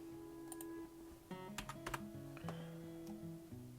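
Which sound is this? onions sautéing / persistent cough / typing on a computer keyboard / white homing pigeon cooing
typing on a computer keyboard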